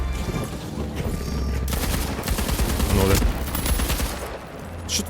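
Rapid bursts of gunfire in the video game The Finals crackle continuously, loud and dense, with a faint voice mixed underneath.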